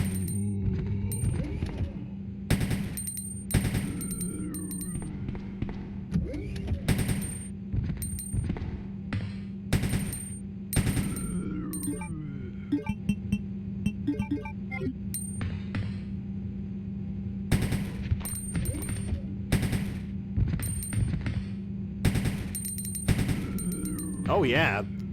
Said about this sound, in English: freaking burst fire pistol on these guys